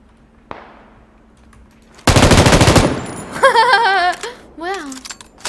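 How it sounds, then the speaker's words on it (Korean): Loud, dense machine gun fire in a video game, a sustained burst of about a second and a half after a single sharp shot, followed by squealing, bleating-like tones. "총소리 못 들었나?"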